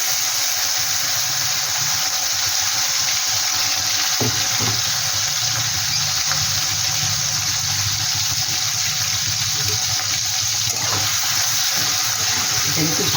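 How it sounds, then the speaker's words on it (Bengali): Salted dried fish (shutki), rubbed with salt and turmeric, frying in a pan: a loud, steady, continuous sizzling hiss up close, with a few faint knocks. "সেটাই আমি একটু ভেজে নেব আবার।"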